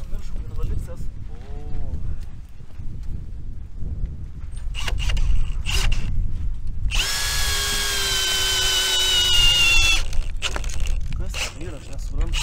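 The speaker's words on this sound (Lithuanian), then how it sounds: "Čia prasigręžiam skiliutės." A power drill whirs in a steady loud burst for about three seconds while holes are bored during roof rafter installation, amid clattering work noises and someone talking.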